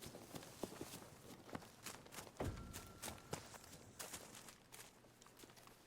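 Footsteps in a video game, a string of quick, sharp, fairly even thuds and clicks, faint overall and alone without talk, with one heavier low impact partway through.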